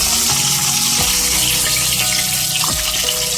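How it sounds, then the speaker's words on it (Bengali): Katla fish pieces fry together in hot oil, giving a steady, close sizzle with a bright hiss throughout, while tonal background music plays beneath. "আমি সবগুলি মাছ একসাথেই ভাজা করছি।"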